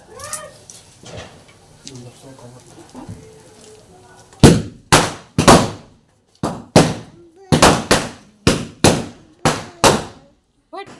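A rapid series of loud, sharp garlic firecracker bangs, a dozen or so in quick irregular succession, after quieter background sounds and faint voices.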